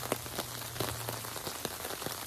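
Rain falls on adobe bricks outdoors, a steady dense patter with scattered sharper drops close by and a low rumble underneath.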